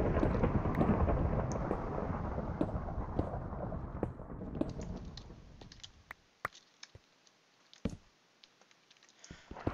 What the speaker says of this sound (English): It's very rainy out there, isn't it?